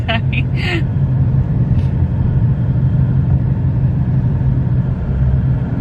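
A manual Ford Mustang's engine hums and rumbles steadily, building slightly as it accelerates, with a few brief bright clicks near the start.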